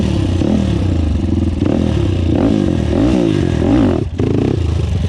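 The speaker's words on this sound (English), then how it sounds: "Barely touching the throttle and she's just pulling right up." A 2005 Honda TRX450R ATV engine runs loud and close, its revs rising and falling with a rough mechanical clatter before a brief dip near the end.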